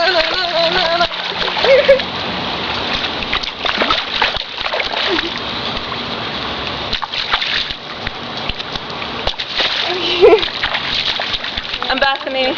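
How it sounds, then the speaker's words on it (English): Water splashes in loud, repeated bursts in an outdoor play setting while girls talk and call out throughout. "We're making a splash video."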